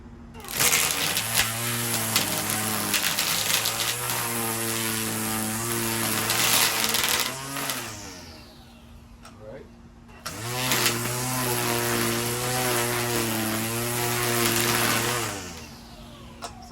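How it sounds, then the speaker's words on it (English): A HART 20-volt cordless string trimmer runs in two bursts of roughly seven and six seconds, each spinning up to a steady high electric whine and winding down, with a quiet pause between them. "Let me go ahead and put it on the trimmer. This is the 20 volt."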